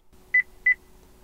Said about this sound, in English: There, I heard it beep.